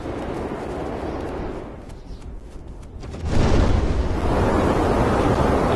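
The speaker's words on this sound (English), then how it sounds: "There's weird little short gusts of wind, like right there." Rushing blizzard wind in a video game roars steadily, dips briefly, then surges into a louder, fuller gust that keeps blowing strongly.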